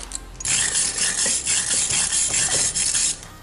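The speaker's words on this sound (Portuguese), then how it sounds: "Aqui eu vou ter que lixar bem para tirar esse excesso" Abrasive sanding grinds down excess weld bead on car body metal during work on a turbocharged VW Gol, a loud continuous rasping scrape with slight rhythmic surges, close up and without talk.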